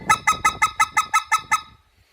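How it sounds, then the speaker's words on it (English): Speck goose call blown in a fast series of about nine sharp, honking two-note yelps, loud and close, then a brief quiet tail. "you're going to get those proper goose notes."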